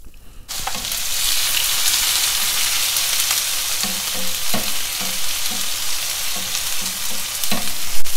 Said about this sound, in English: And you add the cumin seeds and freshly cut onions. And you can add the green chilies along with that.